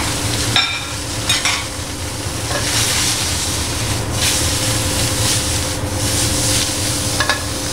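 Onions caramelizing in olive oil in a very hot pan give a steady frying sizzle, broken by occasional stirs and scrapes, loud and close, with no talk.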